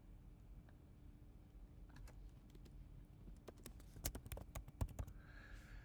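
Computer keyboard keys clatter in a quick irregular burst of close, crisp taps after a quiet stretch, typing text into a design program.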